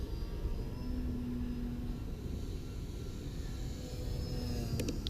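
Steady drone of an E-Flite Timber X radio-controlled airplane in flight, a continuous low motor hum heard from a distance, holding fairly even throughout.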